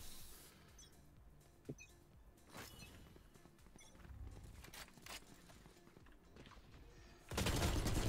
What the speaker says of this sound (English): Who just shot at me?